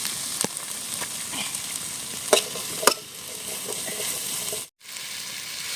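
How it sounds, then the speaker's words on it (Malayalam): Shallots and green chillies sizzling in a pan for a Kerala-style crab roast, a steady close fry with a few sharp scrapes of stirring and a brief drop to near silence near the end. "ചെറിയ ഉള്ളി ഇട്ട് കൊടുക്കുന്നുണ്ട് കേട്ടോ ഈ രണ്ട് പച്ചമുളക് ഇട്ട് കൊടുക്കുന്നുണ്ട് എല്ലാം ഒന്ന് നന്നായിട്ട് ഇളക്കി കൊടുക്കാം"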